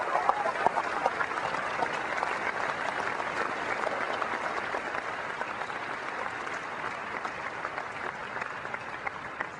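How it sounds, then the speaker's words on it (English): Steady, dense audience applause fills a Macworld New York 2001 keynote hall, a large crowd clapping continuously at even loudness throughout with no voices. "I would like to ask you to give me a round of applause for their families"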